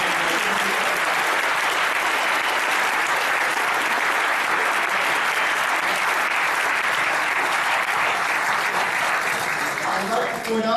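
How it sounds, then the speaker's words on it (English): A banquet audience gives sustained, loud applause for award recipients at an awards ceremony, a dense wash of clapping that holds steady for about ten seconds with crowd noise underneath. "So I would like one big round of applause for all of the award recipients."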